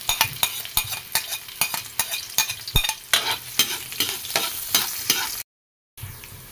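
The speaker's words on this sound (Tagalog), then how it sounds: "Maglagay na po tayo ng sibuyas at bawang." Onion and garlic sautéing in hot oil in a pan for a Filipino dinuguan, the steady sizzle broken by repeated rhythmic stirring scrapes, close and loud with no talk, then a brief gap near the end.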